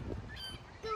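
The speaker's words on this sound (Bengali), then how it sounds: "এখানে একটা নদী আছে, বেশ মোটামুটি বড়ই নদীটা, প্রচুর হাঁস, হাঁসগুলো এত বড় বড়," Large geese, of the kind called raja hans, honking beside a fairly big river on an evening outing, a few short nasal calls close by, with voices faintly around them.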